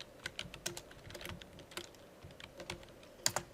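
Typing on a computer keyboard: quick, close, moderately quiet keystroke clicks in uneven bursts, with a slightly louder pair of taps near the end and no talking.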